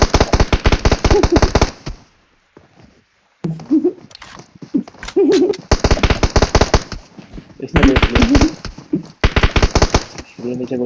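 Rapid bursts of PUBG gunfire crackle in several long volleys, separated by short gaps with voices talking over the action.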